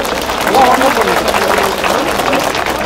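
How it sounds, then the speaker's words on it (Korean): An audience at a North Korean human rights week rally in Seoul gives vigorous applause, the clapping steady and full beneath a voice. "박수를 한번 힘차게 격려해주세요"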